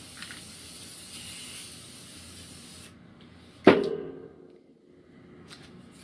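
A spray can of white paint hisses steadily for about three seconds, then stops; a sharp clack follows, with faint rattles afterward.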